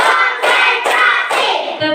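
Rhythmic hand clapping by a class of schoolchildren in a classroom, four bursts of claps in a steady counted beat, fairly loud and close.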